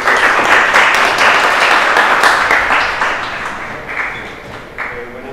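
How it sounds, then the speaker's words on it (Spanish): An audience at a Psicotrónica talk applauds a speaker with dense, loud clapping that gradually thins and fades toward the end. "Muchas gracias, un aplauso para él."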